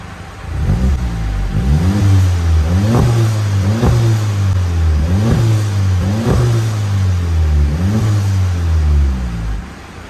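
A Stage 4 VW Polo GTI fitted with a VRS resonator revs repeatedly, about six rising and falling exhaust blips in steady rhythm over a deep idle, loud and close with no talking.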